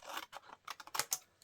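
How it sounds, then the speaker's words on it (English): Long-blade scissors trimming the edge of a handmade card, a run of short crisp snips and rustling paper close to the mic, with no talking. "Just give this a quick trim with the long blade"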